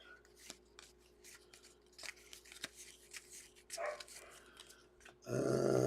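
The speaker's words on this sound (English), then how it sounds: "Oh, these dogs are killing me tonight." Dogs bark and growl somewhere in the room during a baseball card break, the sound mixed with close card-handling clicks and rustles, and a loud burst of noise near the end.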